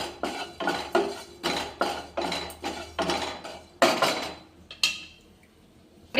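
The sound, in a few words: urad dal dry-roasting and crackling in a pan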